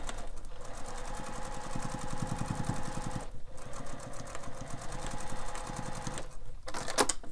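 A sewing machine stitches a fabric wallet, backstitching in short runs: a rapid, close, mechanical whirring of needle strokes, pausing briefly twice before starting again.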